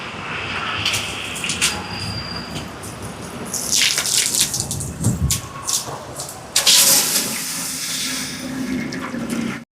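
Water gushing and splashing as it is drawn for a rice cooking pot, in bursts of pouring and rushing flow with knocks and clatter in between, close by and without talk.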